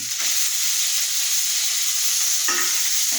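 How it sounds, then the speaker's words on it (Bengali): A loud, continuous sizzle of spices frying in hot oil fills the clip, with a couple of brief stirring scrapes at the start and near the end. "মশলাটা লাল লাল হয়ে ভাজা হয়ে গেছে"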